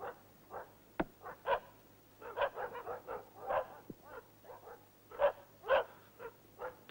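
Sled dogs on an Alaskan Iditarod trail in 1981 give a run of sharp barks, yips and whimpers at close range, irregular and overlapping with brief pauses between bursts.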